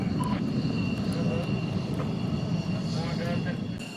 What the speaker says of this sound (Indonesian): satu persatu pesawat tinggal landas untuk memulai latihan